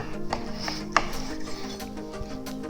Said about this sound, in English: You really want a knife longer than this to get some good cuts in here.